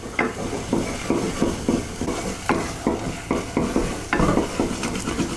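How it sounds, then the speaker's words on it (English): Choux pastry dough for chocolate eclairs is worked around a hot pan, giving steady rhythmic scraping and slapping strokes about every half second over a faint sizzle, close and alone with no talking. "Don't overcook it at this stage. 2 minutes is more than enough, and just keep working it around the pan."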